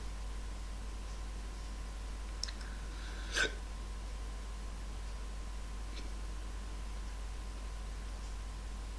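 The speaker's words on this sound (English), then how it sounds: "Every time I talk to the camera, I get the fucking hiccups." A man gives a single faint hiccup amid steady background hiss and a low electrical hum, with a tiny click just before it and otherwise near silence.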